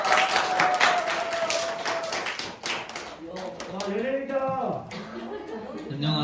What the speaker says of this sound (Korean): 그 어떤 때보다 더 열정적인 박수 부탁드립니다